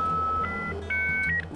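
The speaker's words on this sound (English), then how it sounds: "Racing onto the internet through a dial-up phone modem." Dial-up phone modem connecting to the internet, sounding as a few sustained electronic tones that shift pitch in quick steps over a hissy line, loud and alone.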